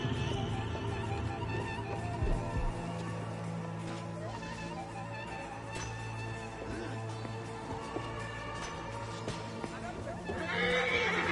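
A horse neighs amid a busy soundscape in the video game Assassin's Creed Origins, with clip-clopping hooves and background voices throughout.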